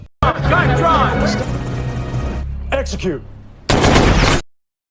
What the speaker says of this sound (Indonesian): para penembak jitu yang sudah siaga berhasil melepaskan tembakannya tepat mengenai sasaran